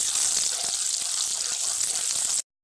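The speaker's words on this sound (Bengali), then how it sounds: "আদা রসুন রসুনটাকে ভেজে নেব।" Chopped ginger and garlic fry in hot oil in a pan, giving a loud, steady hiss with faint crackles close by until it cuts off abruptly.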